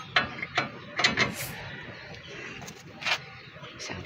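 A ratchet wrench clicks in short, uneven bursts while tightening lower suspension bolts on a Suzuki Carry, close and fairly crisp against a quiet workshop background.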